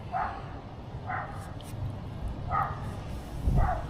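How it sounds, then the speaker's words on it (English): Dogs bark from a distance near a private boat pier, four faint, separate yaps spaced about a second apart over steady outdoor background noise, with no talking. "And more dogs barking."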